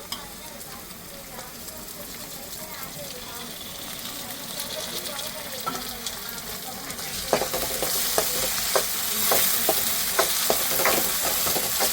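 Onions and tomatoes frying in a pan for fish curry, a steady sizzle that grows louder midway as fresh tomatoes hit the oil, with scattered stirring clicks and a voice speaking over it.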